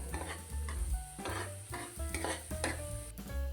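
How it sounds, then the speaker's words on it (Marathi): Khoa (milk solids) being sautéed in a pan for kheer over medium heat: close, rhythmic stirring scrapes of a spoon against the pan over a gentle sizzle, several strokes in quick succession. "आता ह्याला आणखीन थोडंसं परतून घेऊ गॅस थोडा मध्यम ठेवायचा आहे"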